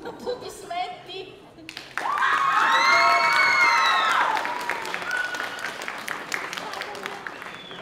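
A crowd at a game summit cosplay stage bursts into loud clapping, cheering and high shouts, starting suddenly after a few seconds of talk and staying dense, then easing slightly as it continues.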